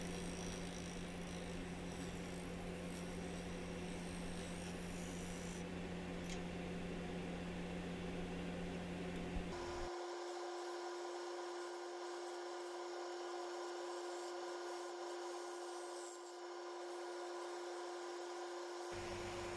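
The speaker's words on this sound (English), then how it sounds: "I'm going to be turning it away, starting with the skew chisel." A wood lathe turns a walnut salad bowl with resin-filled cracks while a skew chisel works it: a steady, even whirring drone runs throughout, and its hum pitch shifts partway through.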